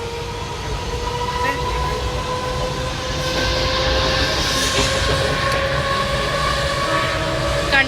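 A passenger train runs along the rails with a steady, loud rumble heard from on board, tonal wheel squeal layered over the roar, while a voice talks faintly beneath.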